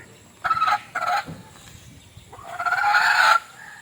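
A hen gives a few short squawking clucks, then a longer drawn-out cackle, close by against quiet background noise.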